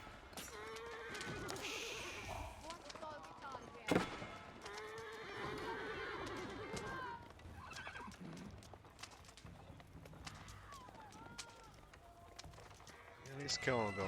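Horses neigh and hooves clip-clop amid a battle in Age of Empires IV, with whinnies and clashing effects throughout, all faint and running under continuous talk.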